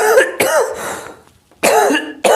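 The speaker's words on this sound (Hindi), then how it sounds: "थोड़ी खांसी हो गई है" A man coughs several times in close, loud bursts, three harsh hacking coughs separated by short pauses, with no talk.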